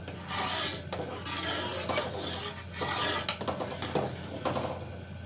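A kilo of sugar is poured into a large pot holding six kilos of tomatoes for homemade ketchup, a close grainy rushing and scraping with a few metallic clinks against the pot.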